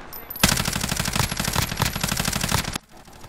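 Rapid automatic fire from an AR rifle in a shooter video game, a loud, close, unbroken burst of evenly spaced shots lasting a couple of seconds before cutting off abruptly.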